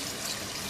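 About half a cup of water poured into a cooking pot, a steady rush, close and continuous, filling the brief moment without any pause.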